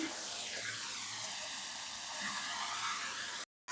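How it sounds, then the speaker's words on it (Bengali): Hilsa fish frying in oil in a pan gives a steady, soft sizzling hiss that holds evenly for a few seconds before cutting off abruptly. "দু পিঠ সুন্দরভাবে দু সাইডে ভাজা হয়ে গেছে লাল লাল করে"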